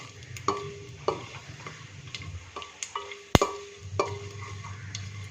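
Ingredients sautéing in a pan for chicken 65 dum biryani, a low sizzle under a series of sharp ticking and clinking spoon strikes against the pan, close by, with one loud clack near the middle and no talking.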